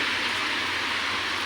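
Heavy rain pouring down in Gohana city, a dense, loud, continuous hiss of rainfall with no pauses or voices.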